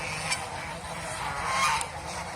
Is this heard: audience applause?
no